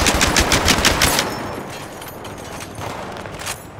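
Sustained automatic gunfire from a machine gun in the Battlefield 3 video game, loud rapid bursts for about a second, then a duller continuous clatter and rumble that trails on to the end.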